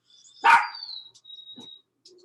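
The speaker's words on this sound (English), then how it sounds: "you guys are going to hear my dogs bark" Dogs barking indoors: one loud, close bark, then a few softer yelps and whimpery sounds spread over a couple of seconds, with a faint high whistle-like tone in the background.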